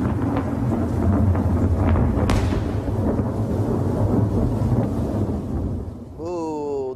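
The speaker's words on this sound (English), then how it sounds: "that's what it sounded like in Ventura today as thunder echoed across the sky" Thunder echoes across the sky over Ventura, a loud rolling rumble with rain hissing beneath it that runs for several seconds before a short burst of music cuts in.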